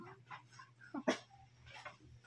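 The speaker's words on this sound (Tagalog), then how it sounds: "Ang ingay ng aso nyo." A dog making noise indoors, a few short whines and yelps in uneven bursts over a low steady hum, close and fairly faint.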